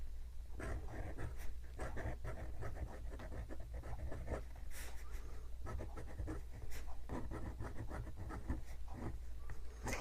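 A fountain pen with a 14K gold medium nib, a Platinum #3776 Century, scratches across paper in quick, close strokes. The pen writes with a dry, toothy feel, and the strokes form a busy rhythm of short scrapes with brief pauses.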